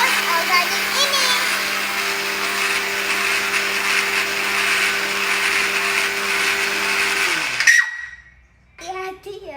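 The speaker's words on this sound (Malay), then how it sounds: "Now, we are gonna blend it." A blender grinding organic oats whirs loudly and steadily for several seconds, then winds down and stops; a voice is heard briefly at the end.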